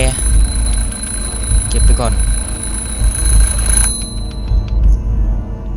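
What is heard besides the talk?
alarm clock ringing in video game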